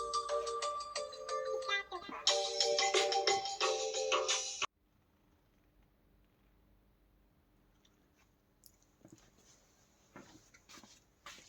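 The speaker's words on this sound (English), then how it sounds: "I have to pause because the phone is ringing" A phone ringtone plays loudly for about four seconds and cuts off, leaving near silence with faint handling and rustling sounds.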